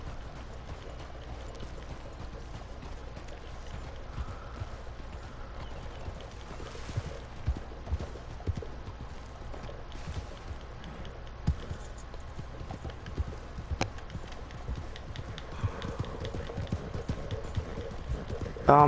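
Horse hooves in Red Dead Redemption 2 clop in a continuous, rhythmic stream of soft thuds at a steady gait, moderately quiet, with a few louder knocks scattered through.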